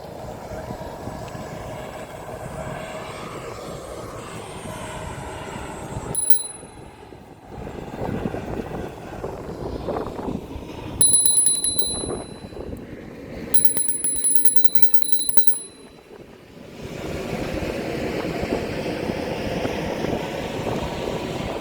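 A bicycle bell rings several times in short bursts over rolling wheel and road noise from a Hiboy S2 Pro electric scooter.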